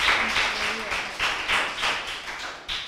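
Short burst of applause for a primary school team at a school quiz, a few close, loose claps in clusters, with faint voices underneath.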